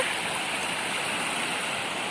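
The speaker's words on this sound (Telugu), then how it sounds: "చాలా అంటే చాలా వస్తుంది వాటర్" Water flows steadily in a stream, a continuous close rushing and gurgling with no voices.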